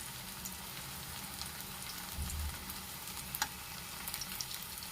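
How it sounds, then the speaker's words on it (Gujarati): Potato poha tikkis frying in hot oil give a faint, even, rain-like sizzle with a few tiny pops and a soft bump partway through; no voices. "આપણે હવે એક એક કરીને ટીકીને તળી લઈશું."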